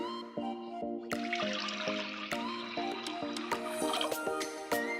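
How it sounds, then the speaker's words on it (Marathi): Water pours into a metal cooking pot (handi) with splashing and dripping, mixed with ringing clanks and taps of the vessel, close by and fairly steady. "त्या हांडीत टाकायचं आपल्याला दीड गडवा पाणी"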